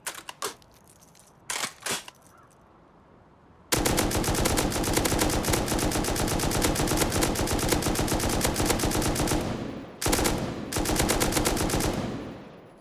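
An M249 light machine gun fires in the video game Rust, a few short bursts followed by a long unbroken stream of rapid loud shots lasting about six seconds, a brief gap, then another sustained burst.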